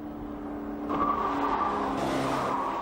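A Citroën XM with Hydractive 2 suspension swerving through a moose avoidance test, a steady car engine drone with a brief tyre scrub as the lane change begins, heard from close by without talk.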